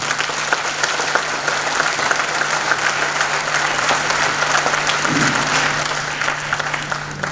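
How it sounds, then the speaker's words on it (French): A large audience at a French national awards ceremony applauds the parents, producing dense, loud, sustained clapping that fills the hall evenly from start to finish. "Je souhaite qu'on applaudisse très fort les parents."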